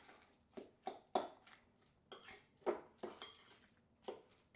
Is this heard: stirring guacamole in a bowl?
yes